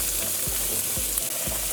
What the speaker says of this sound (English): When the oil is hot, we're going to go in with those aromatics that we chopped.